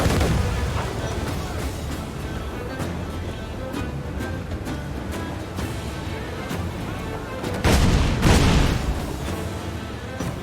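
Ship cannons fire in Assassin's Creed Black Flag, a dense, loud naval barrage of repeated booms with a heavier burst of blasts near the end, under battle noise and faint shouting.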